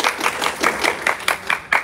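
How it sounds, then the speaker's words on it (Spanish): A small group claps in a dance class in Chicago, a short burst of sharp, rhythmic claps at a steady pulse, fairly close, with no voices. "un aplauso para ustedes."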